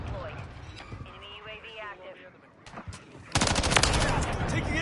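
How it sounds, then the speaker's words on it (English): Stun grenade going off in Call of Duty MW3: a sudden sharp burst partway through, then a dense ringing, crackling wash of noise with rapid gunfire, over a voice calling out. "Stun grenade out!"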